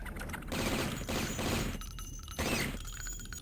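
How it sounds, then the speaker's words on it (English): Gunshots fired at a barrel in the video game Blood, inside a boiler room: a few sharp shattering bursts with crackling debris, separated by brief gaps, moderately loud. "Shoot that barrel to get the jump on the fanatic."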